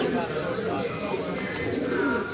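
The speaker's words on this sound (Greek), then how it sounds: "Θα μας κάνει έτσι μια πριβέ πεταξιά σε πουλάκια." Havades pigeons at a bird club in Skydra, Greece, coo and call softly against a constant background wash, with a voice-like murmur mixed in.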